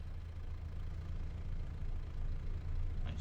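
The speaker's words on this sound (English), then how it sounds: "That's a nice engine sound." A Kubota 6M tractor engine in a video game runs at a steady idle, a continuous low, throbbing rumble with an even pulse throughout and no talking.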